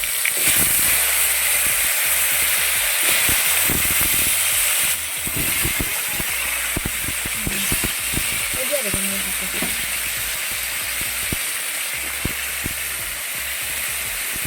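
Chopped turnips drop into hot oil and set off a loud, continuous sizzle and hiss, with scattered clicks and stirring sounds throughout.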